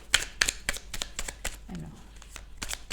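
A deck of oracle cards is shuffled by hand, giving crisp, close riffling bursts in an irregular rhythm with a brief low murmur in between.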